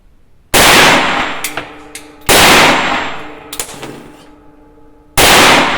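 A Soviet PPS-43 submachine gun fires at a gas cylinder in three loud, close bursts. Each burst starts sharply, then a metallic clang rings out and fades in the pauses between them.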